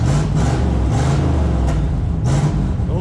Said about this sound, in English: You hear that one glass pack? And one green truck straight pipe?